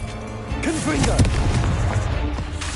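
Blasting spell explosions from the Hogwarts Legacy video game burst out in loud, booming hits that follow one another. A voice shouts over the blasts.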